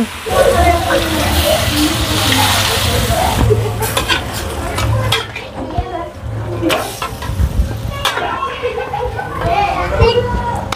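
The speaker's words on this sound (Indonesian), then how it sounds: "kemudian kita tambahkan air" Water poured into a hot pan of beef ribs sets off a loud, steady sizzle and bubbling that runs throughout. A person talks over the cooking noise.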